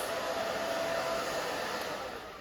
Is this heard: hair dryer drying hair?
yes